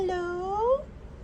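A Persian cat named Mio gives a single clear meow, rising then bending upward, close and alone, about three-quarters of a second long before quiet room tone.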